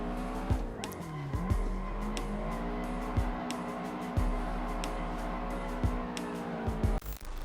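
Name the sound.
drifting car engine and tires in Assetto Corsa video game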